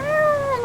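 A cat in GTA 5 gives a single close, clear meow, a drawn-out tonal cry that bends slightly downward before ending in a short burst, heard alone without talk.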